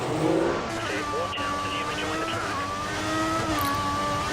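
Racing car in a racing video game pulling away on track at Albert Park on green-stripe tyres, engine note rising and shifting through gears, loud and close, with talk over it.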